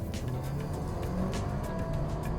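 A 2014 Mercedes-Benz GLA 250 accelerates hard in Sport mode, its engine drone heard from inside the cabin as a steady, moderately quiet rising hum with faint road noise.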